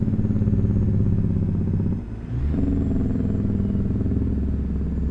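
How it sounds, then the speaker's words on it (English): Heavy-haul truck engine with turbo in American Truck Simulator, a loud steady diesel drone with whining turbo tone, briefly dipping mid-clip before swelling back as the rig pulls on. "turbo sounds good on this one."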